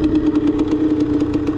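A KTM motorcycle, assembled by a 13-year-old, idles steadily right after starting, with a close, loud, even putter and quick rhythmic pulses throughout.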